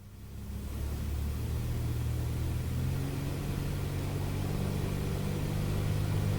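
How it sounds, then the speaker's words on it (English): Light aircraft engine at full power during a go-around, a steady loud droning roar that builds in the first second and then holds, with a constant propeller hum and no voices. "smoothly go to full power, going around"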